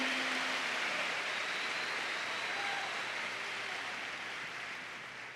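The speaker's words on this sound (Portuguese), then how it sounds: "Se é para aplaudir, aplaude com vontade" Sustained broadband applause from a church congregation, a steady dense wash of clapping that holds loud throughout and eases slightly toward the end, with no voices standing out.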